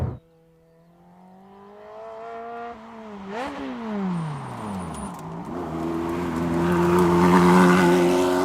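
A modified Ferrari 360 Modena engine heard from the car, idling briefly before the revs climb, dip on a gear change, then build again into a loud, sustained, rising howl.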